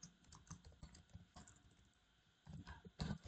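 Quick bursts of keystrokes on a computer keyboard, close and fairly quiet, with an irregular rhythm, a pause midway, and a few louder clacks at the end.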